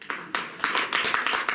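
An audience at a school science outreach programme gives the performing children a round of applause: quick, dense, crisp clapping that builds in bursts, moderately close and fairly quiet, with no voices over it.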